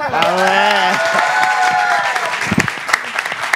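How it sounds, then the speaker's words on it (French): Loud studio audience applause on a French talk show, dense clapping with some cheering, while a voice talks over the start. "Applaudissez pour."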